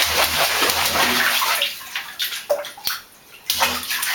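A small child splashes water in a bathtub, with dense sloshing for the first couple of seconds, then scattered smaller splashes and drips and a brief near-quiet before more splashing. Close and loud, with no talking.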